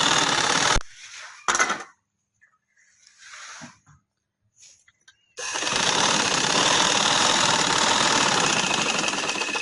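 A sewing machine stitches lace onto the slit of a cotton kameez, running in short bursts with pauses and then in one long continuous rattling run, close and loud.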